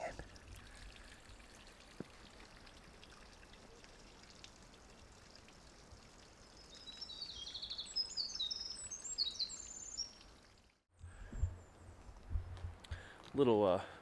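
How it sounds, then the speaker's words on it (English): On a rocky mountain, birds give faint, high chirps and short bursts of song over a hushed outdoor background, with muffled voices in the background. "The birds are singing."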